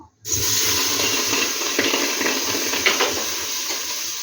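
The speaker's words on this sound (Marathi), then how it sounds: "तर मी थोडंसं घोटभर पाणी टाकते, कारण आपला गूळ करपू नये म्हणून" Water poured into a pot before melting jaggery for syrup, a steady close splash starting suddenly after a brief quiet and running on, with a few light knocks of the vessel.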